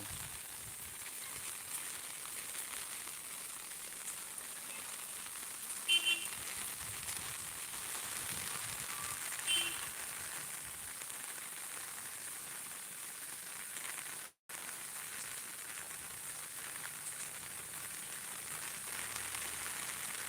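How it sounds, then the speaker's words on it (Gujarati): Heavy rain pouring down in Akala village, a constant even hiss of falling water that briefly cuts out once, with no voices. "જોરદાર વરસાદ વરસી રહ્યો છે"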